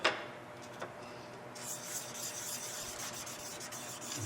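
Sandpaper of 400 grit rubs by hand against a wooden magnolia bowl in a steady, soft, continuous rasp that stays faint and even throughout.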